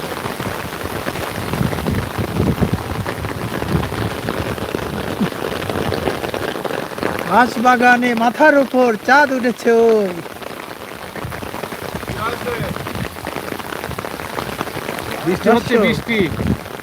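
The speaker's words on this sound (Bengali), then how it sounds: "নদীর পাশে বৃষ্টির মধ্যে আটকে গেছি" Rain pours steadily beside the Chiknai river in a loud, dense hiss, while a voice sings melodically through the middle and again near the end.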